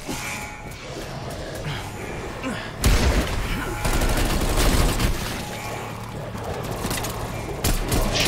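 Dense bursts of rapid gunfire and booms ring out while shooting zombies in Call of Duty: Black Ops Cold War on the Die Maschine map, loud and continuous, with players' voices mixed in.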